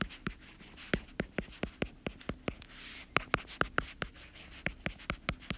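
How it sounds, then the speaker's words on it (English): A marker or chalk writes equations on a board in rapid, evenly spaced strokes, heard as crisp tapping scratches close by and fairly faint. There is no talk. "I'll go ahead and write these on the sides."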